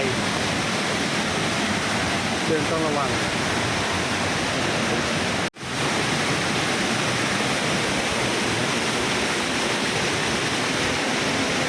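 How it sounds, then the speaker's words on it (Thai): From a cave tucked beneath a waterfall's curtain on Khao Phu Taben, the water's steady, loud roar surrounds the listener, broken by a momentary dropout midway, with a brief spoken voice over it. "นี่เป็นถ้ำใต้น้ำตกนะฮะ ถ้ำใต้ม่านน้ำตกนะฮะ"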